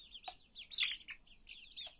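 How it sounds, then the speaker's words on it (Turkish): A rooster gives a few short crowing calls and clucks at close range, mixed with light chirps, over a quiet background. "Sen horoz musun ha yoksa?"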